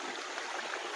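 Stream water flows with a steady, hissing wash, even and unbroken for a short second with no voices over it.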